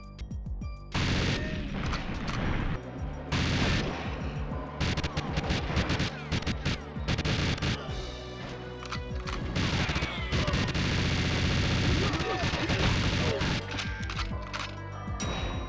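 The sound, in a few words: gunshots in a James Bond 007 video game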